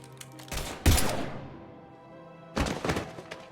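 Weapon fire in the sci-fi shooter Mass Effect 3, heard as two heavy bursts of impacts separated by a quieter pause, with no talking over them.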